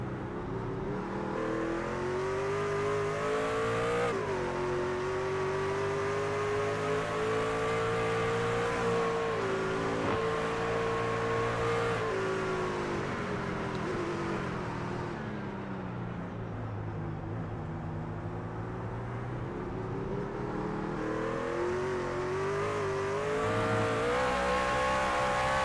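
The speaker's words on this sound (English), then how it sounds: "You can hear that truck starting to struggle." The race truck engine in a Daytona racing simulator wails continuously at high revs, rising and dipping through corners as the strained drone persists for the whole stretch, with no voices over it.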